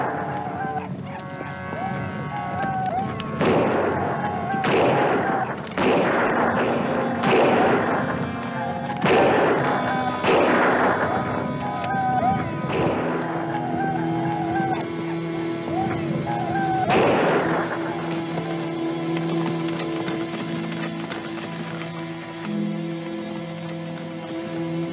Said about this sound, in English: That shot came from above.